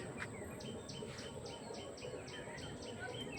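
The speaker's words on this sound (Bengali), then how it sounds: "পাখিদের আওয়াজ কিচকিচিচ আওয়াজ" A rapid series of high chirps repeating steadily over a soft, constant outdoor hiss, faint and somewhat distant.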